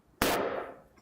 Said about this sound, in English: This is a hard boxwood block. I'm going to bang into it.